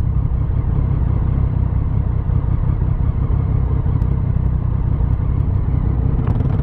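A Honda Biz motorcycle in a traffic corridor gives a loud, close, continuous engine rumble and whir, steady throughout with no breaks and no voices.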